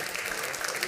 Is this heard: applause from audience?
yes